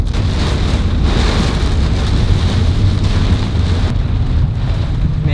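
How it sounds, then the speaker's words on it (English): Big hail pounds down during a severe storm near a wedge tornado in Illinois, a loud, dense, continuous drumming roar mixed with wind, close and unrelenting throughout. "We got big hail here."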